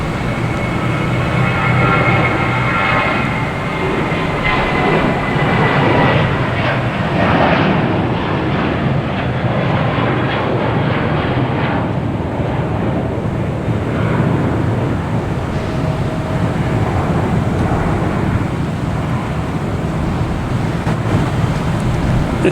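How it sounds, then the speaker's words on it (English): Spirit Airlines Airbus A321 airliner departing Boston Logan Airport, heard as a steady loud jet engine roar with broad rumble that holds throughout, mixed with some wind noise on the microphone. "Here is Spirit Airlines heading to Myrtle Beach in A321."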